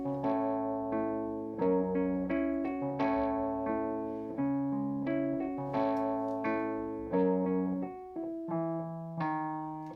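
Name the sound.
Wurlitzer electric piano through amplifier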